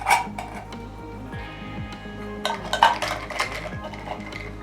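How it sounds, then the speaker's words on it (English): A utensil scrapes and clinks against a pot while food is stirred at home, several light metallic taps and scrapes over faint background music, with no talking. "Stir it up like so."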